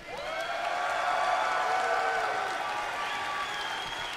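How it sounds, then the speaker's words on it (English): A crowd at a wrestling event applauds and cheers at close range, swelling in the first second then holding as a dense wash of clapping with a sustained tonal cheer layered over it. "Because you guys are cheering me."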